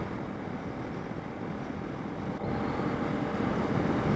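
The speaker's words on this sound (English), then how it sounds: "Unfortunately, we've got a bit of a headwind, so the CRF is battling a bit against the wind at the moment." Headwind buffeting a microphone while riding a Honda CRF motorcycle along a Karoo mountain pass road, a steady loud broadband rush with engine drone underneath, swelling slightly stronger partway through.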